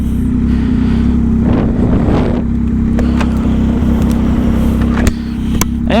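A Yamaha Tracer 9 GT motorcycle rides through traffic, its steady engine drone and wind rush loud and close throughout, with a few sharp clicks or knocks near the end.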